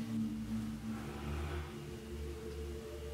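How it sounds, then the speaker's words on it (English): A car passing outside gives a steady low engine rumble and mild revving throughout, fairly faint and distant-sounding, with no talking. "somebody's making noise. Somebody's car."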